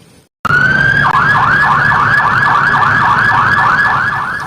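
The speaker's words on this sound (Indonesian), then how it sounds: "kalau ini mobil truk tangga pemadam kebakaran teman" A toy fire engine ladder truck's electronic siren wails loud and close, a steady rising-and-falling whoop repeating quickly and cleanly with no talk.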